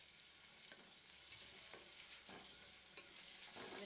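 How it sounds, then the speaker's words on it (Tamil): Onions and mint leaves sizzle softly in a pan for banana stem biryani, with a steady frying hiss and the occasional scrape of a stirring spoon, quiet and close, and no voices. "பாருங்கள் புதினா இலை வெங்காயம் எல்லாமே நல்லா வதங்கிருச்சு."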